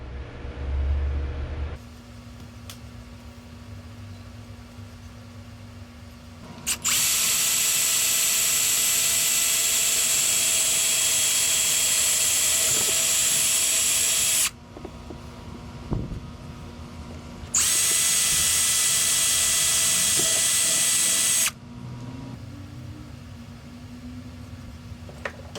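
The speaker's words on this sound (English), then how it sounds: "all you need to do is drill the holes and then bolt it in" A power drill bores mounting holes into a Sea-Doo Fish Pro jet ski to fit side rod holders, running in two loud, sustained bursts of several seconds each, separated by a quieter pause with low background noise.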